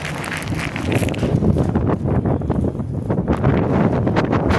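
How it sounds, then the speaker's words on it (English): Steady, roaring wind on the deck of the cruise ship Allure of the Seas buffets the microphone throughout, a loud broadband rush with gusty swells and no clear voices. "It is so windy."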